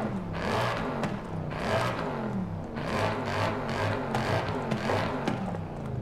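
V8-swapped 1930 Bentley in Forza Horizon 5, a 1000 hp drift build, its engine droning and rising in repeated revving surges over a steady low rumble, loud and continuous with no talk.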